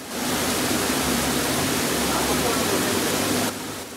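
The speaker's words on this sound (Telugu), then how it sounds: "ఆ పైప్ లైన్ నుంచి అలా సన్న సన్న దారుల్లా అలా వాటర్ ఫాల్ అవుతుంది." Artificial waterfall in a Bangalore taproom restaurant, with thin streams of water falling from a pipeline, giving a steady, loud broadband rush that runs unbroken and drops slightly near the end.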